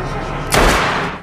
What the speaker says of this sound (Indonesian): Jen pun akhirnya menembak Louis.